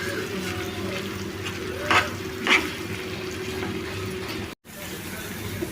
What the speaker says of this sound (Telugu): కారం వేసేసుకొని ఒకసారి కలిపేసుకుందాం